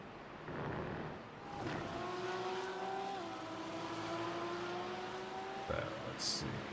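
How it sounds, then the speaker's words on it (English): A Mercedes AMG V8 race car in a sim racing game at Mid-Ohio drones with steady engine tones and gear shifts, a sustained mid-loud roar running throughout with a sharp transient near the end. "Hope you all enjoyed the thunderous V8 AMG power plant in that thing."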